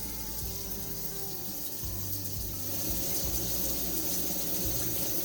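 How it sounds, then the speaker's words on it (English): A shower runs with a whole-house water pressure booster pump switched on, giving a steady rushing hiss of water with a low pump hum beneath, growing slightly stronger partway through. "we're gonna turn on the shower"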